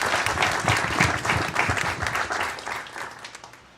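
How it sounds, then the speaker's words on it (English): A crowd at a mayor's community night applauds with dense, rapid clapping that swells and then gradually tapers off. "let's give him a big round of applause"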